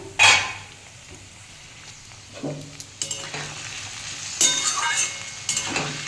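Beetroot and potato frying in a pan, with a soft steady sizzle and several scraping stirs and clinks of a spoon against the pan, close by and alone.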